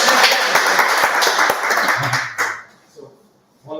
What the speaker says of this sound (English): round of applause for Ricardo